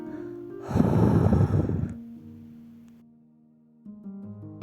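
A slow breathing exercise: one deep, breathy inhale or exhale rushes loudly and close for about a second, then quiet follows, with soft background music throughout.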